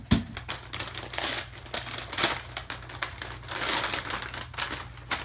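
Packing paper crinkles and rustles continuously around a Goorin Bros. Papou hat as it is unboxed, close and fairly loud, with irregular bursts of crumpling and no talking.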